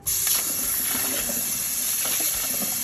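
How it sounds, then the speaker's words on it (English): Cold tap water runs steadily over boiled eggs in a kitchen sink, a continuous close hissing gush with no talk. "go ahead and rinse the egg with cold water"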